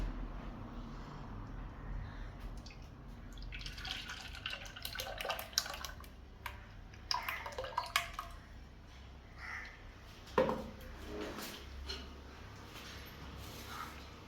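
Ground rice-flour batter, blended with the other ingredients for kinnathappam, is poured into a vessel in a soft, faint, intermittent liquid trickle with occasional small splashes.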